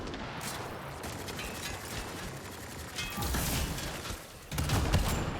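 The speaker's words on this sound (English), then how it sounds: "I'm just gonna shoot you to the head." Gunfire from Mass Effect Andromeda crackles in rapid bursts of mechanical, rattling shots, loud and dense, with a heavier volley around the middle and another near the end, alone without talk.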